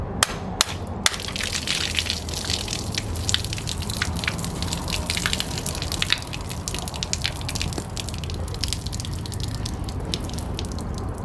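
Old water drains out of a Ford 312 Y-block engine in a continuous splashing, dripping trickle, close and steady, after a few sharp knocks at the start, with no voices.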